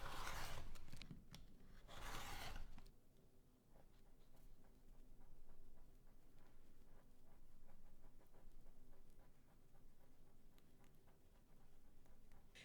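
Scissors cutting paper patterns stuck onto reinforcement card, with a couple of loud rustling handling bursts at the start followed by soft, quiet, repeated snipping and rubbing close by.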